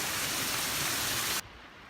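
Steady rain falls at a wild camp in Glencoe, a dense, even hiss that stops abruptly near the end, leaving quiet background.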